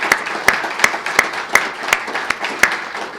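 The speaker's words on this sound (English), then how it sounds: "Another round of applause for Larry." Applause for the featured speaker Lawrence Reed at a talk event, heard as sparse, sharp individual claps in a slow irregular rhythm, fairly faint and thin rather than a full ovation.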